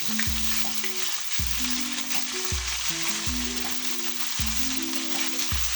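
Karahi meat frying in a pan gives a steady, close sizzle that holds evenly from start to finish, with a low tonal hum running underneath.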